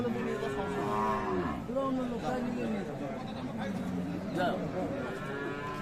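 Cattle at a busy rural cattle market in Aftabganj, Dinajpur, Bangladesh, where Sahiwal cows are sold, give several loud, drawn-out moos close by, with people talking and a general hubbub in the background.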